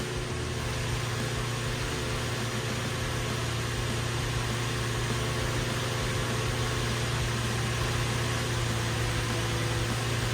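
A drift car's engine idles steadily while warming up, a continuous low hum with no surging, heard close and alone without talk.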